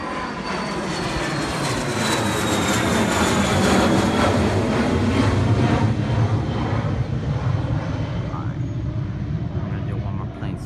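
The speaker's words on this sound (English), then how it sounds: "And it looks like Citation just took off." A Citation business jet takes off at Naples Airport, a loud, sustained engine roar with whining tones that slowly fall in pitch, swelling to a peak midway and easing only slightly toward the end.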